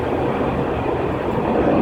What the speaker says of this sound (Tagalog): May jet plane na dadaan.